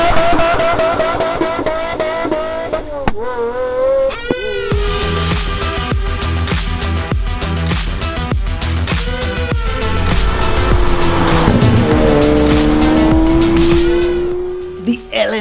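Pagani Zonda 760 LM Roadster with its AMG V12 roaring close and loud, rising and falling revs through repeated gear changes and sharp throttle blips, one long sustained pull near the end.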